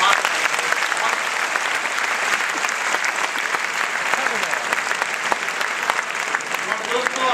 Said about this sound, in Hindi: मैं चाहता हूं एक बार पूरा सदन जोरदार तालियां बजाकर उन्हें आभार